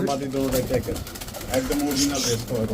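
A racer pigeon coos softly at a pigeon market, its low murmuring calls partly under steady nearby conversation.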